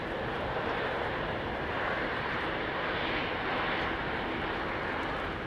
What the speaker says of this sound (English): we do have this American 777-3 lining up